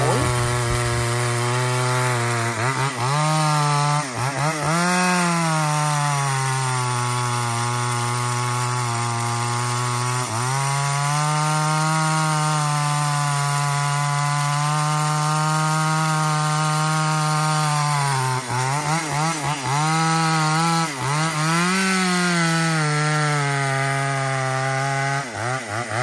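A saw cuts low through a large eucalyptus trunk, a steady loud engine drone that holds for the whole stretch, with a few brief dips and swells in pitch as the load on the cut changes.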